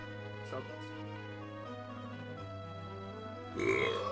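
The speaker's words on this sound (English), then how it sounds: "I'm trying to burp." A single loud human burp bursting out near the end after a stretch of steady background tones, close to the microphone.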